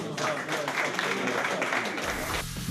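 Audience applause at a 2019 regional football awards ceremony, steady crowd clapping in a hall with voices mixed in, ending abruptly as a deeper sound takes over.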